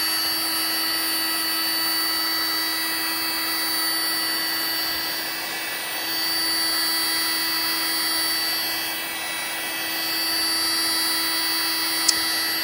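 A heat gun runs wide open over blade and leather wax, a steady whooshing blower hum with a constant tonal whine, fairly loud and unbroken, with a brief click near the end.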